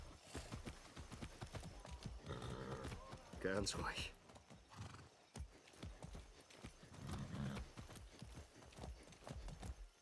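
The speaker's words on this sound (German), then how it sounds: "So ein braves Pferd." Hooves clip-clop steadily at a walk while a horse neighs briefly in Far Cry 6; a voice speaks calmly over the sounds.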